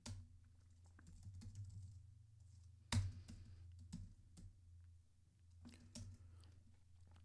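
Python code being entered on a computer keyboard, with quiet scattered key clicks and a few sharper taps in irregular rhythm, close and soft over faint low background hum.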